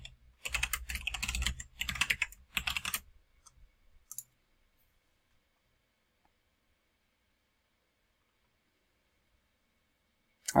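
Keys clatter in quick, uneven bursts on a computer keyboard as a password is typed, close and clear for about three seconds, followed by a single stray click and then near silence.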